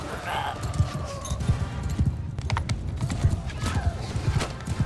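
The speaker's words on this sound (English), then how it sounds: "Give me that horse." In the Mount & Blade II Bannerlord video game, horse hooves clip-clop in a quick, uneven rhythm close by, with a horse whinnying and battle noise mixed in while someone talks over it.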